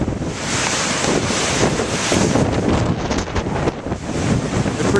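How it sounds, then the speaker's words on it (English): Waves crash onto a beach in Whiting beside the Horseshoe Casino on a windy day. The surf makes a steady, full roar, and strong gusts buffet the microphone throughout. "As you can see, the waves are crashing behind me."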